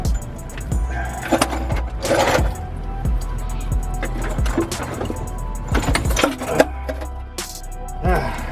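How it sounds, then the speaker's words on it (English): A floor jack being dragged out from under a Honda Civic D16 turbo engine during an engine removal in a garage, with scraping and rolling metal noise, clunks and rattles over several seconds, close and fairly loud with no talking. "I'm gonna have to slide the jack out and let the motor actually sit on the ground"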